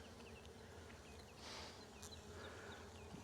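A swarm of Russian honey bees buzzes steadily and softly, with individual bees zipping past nearby over the constant drone.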